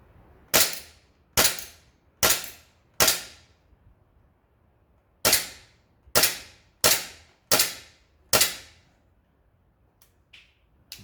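An airsoft gun firing single shots at a range: nine sharp, close cracks, four and then five in quick succession, followed by a couple of faint clicks.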